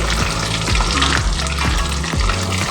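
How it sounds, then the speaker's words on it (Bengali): Tilapia pieces fry in hot oil in a pan, giving a loud, dense, continuous sizzle and crackle up close with a few low scraping bumps, and no voices. "মাছগুলো খুব সুন্দর করে আমি ভেজে নিচ্ছি"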